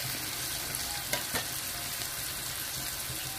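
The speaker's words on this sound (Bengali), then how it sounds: "3টি উপকরণ আমি সুন্দর করে মিডল পয়েন্টে রেখে ভেজে নিচ্ছি।" Mustard paste, green chili and garlic fry in a pan with a steady, close, bright sizzle, broken by a couple of brief stirring scrapes.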